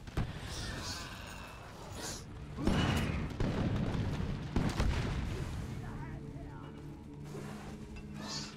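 Enemies blowing up in the video game Deep Rock Galactic: a run of muffled booms and bursts, with heavier blasts in the middle, set against gameplay noise.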